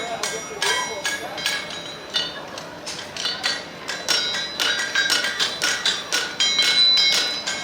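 A farrier at a horseshoeing competition strikes a horseshoe on an anvil with a six-pound hammer, giving a close, loud run of ringing metallic blows in a quick steady rhythm, with someone speaking over them.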